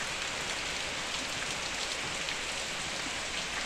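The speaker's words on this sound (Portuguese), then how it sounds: "Olha aí a chuva caindo" Steady rain pours down in the backlands of Pernambuco, Brazil, one dense, even hiss of drops on the ground with no breaks and no voices.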